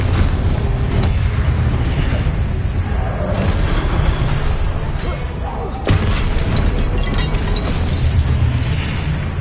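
Confringo blasting spell explosions in Hogwarts Legacy, repeated booming bursts layered with spell-casting effects and voices, a dense, loud, continuous combat din with a sharp hit near the middle.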